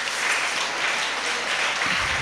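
Steady applause from a school gathering, a dense wash of clapping hands filling the short span at an even level.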